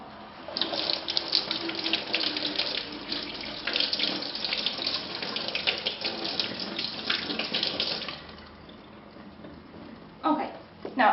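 Tap water runs steadily into a kitchen sink while pork is rinsed under it, a continuous splashing gush that fades near the end, followed by brief handling clatter.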